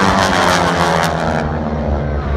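Vintage propeller aircraft in formation climb at the Wings Over Houston air show, a steady loud engine drone that holds level and full throughout with no break.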